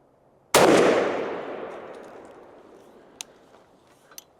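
A single loud shotgun blast of a blended TSS turkey load (Jebs 560) fired at a target, its sharp crack ringing out into a long decaying tail with a couple of faint clicks afterward.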